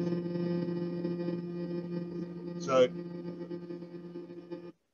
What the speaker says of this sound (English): So that's a sound of another pulsar.